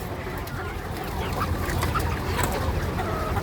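Young laying hens at a poultry farm in a large flock, a dense continuous chorus of clucking and calls filling the space at steady volume, with no speech.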